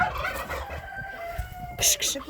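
Chickens, with turkey hens and a tom nearby in the same flock, clucking and calling around a farmyard, a short squawking burst near the end rising above the steady low chatter.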